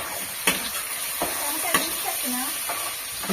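Chicken pieces go into a hot pan and sizzle steadily up close, with a continuous frying hiss broken by a few sharp clinks and stirring knocks.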